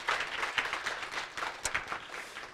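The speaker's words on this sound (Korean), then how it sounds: "우리 하나님께 영광의 박수를 올려드립니다." Soft, steady applause from a church congregation, offered in praise during a sermon. The clapping is moderately faint and continuous, with a few sharper claps standing out.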